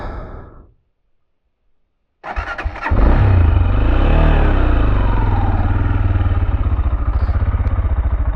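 A Tekken 250 motorcycle engine starts after a short silence and settles into a steady, close, loud rumbling run as the bike pulls away on a rural road through abandoned villages.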